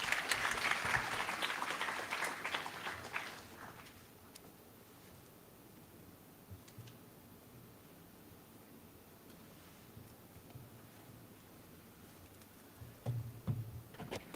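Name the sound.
audience applause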